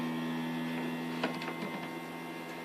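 A Wine Art wine dispenser's vacuum system runs with a steady mechanical hum, close and continuous, joined midway by a few faint clicks and ticks.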